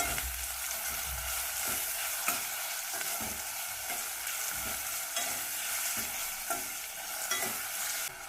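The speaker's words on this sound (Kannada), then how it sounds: "ಇವಾಗ ಟೊಮೊಟೊ ಹಾಕ್ತಾ ಇದ್ದೀನಿ. ಟೊಮೊಟೊ ಹಾಕೊಂಡು ಇದನ್ನು ಎಣ್ಣೆಲಿ ಬೇಯಿಸ್ಕೋಬೇಕು." Tomatoes fry in oil with roasted onions for a North Karnataka style moth bean curry, a loud steady sizzle broken by regular scraping strokes of a stirring spoon, with no voices.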